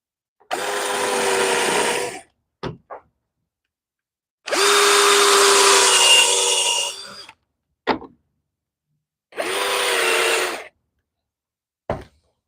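A power drill drives screws into bench lumber in three long whirring bursts, each ending with a sharp knock or clatter, separated by quiet gaps.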